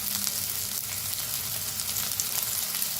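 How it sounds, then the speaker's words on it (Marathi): Spices sizzling steadily in hot oil in a pan with turmeric and red chilli powder while cooking baingan bharta with chopped tomatoes, a continuous close frying hiss with no talk. "जरा भाजून घेऊया"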